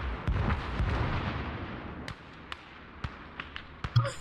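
Booming artillery fire from German 88mm guns in the World War II video game Call to Arms: Gates of Hell, a dense rumbling barrage at first, then sharp isolated distant blasts spaced a fraction of a second apart.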